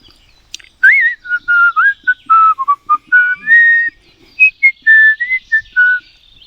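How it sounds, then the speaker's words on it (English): Clear tit whistles in a rapid series of short, bright phrases, some rising and falling, close and fairly loud with quiet gaps between. "it's a different type of tit whistling there"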